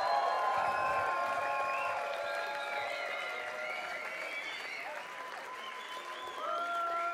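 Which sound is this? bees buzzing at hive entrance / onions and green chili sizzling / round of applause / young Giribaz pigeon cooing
round of applause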